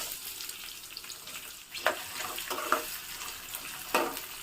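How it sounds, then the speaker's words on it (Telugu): Small chopped pieces of a large onion fry in hot oil for a restaurant-style kaju paneer curry, giving a steady close sizzle with occasional sharper crackles and brief stirring bursts. "ఉల్లిపాయలు వేగుతున్నాయి కదండి"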